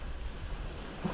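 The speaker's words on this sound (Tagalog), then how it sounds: "Ang lalaki pala ng alon dito guys." Steady rumbling surf fills the short clip, a continuous wash of large ocean waves on a beach with wind noise mixed in, no voices. Recorded in General Nakar, Quezon province, Philippines.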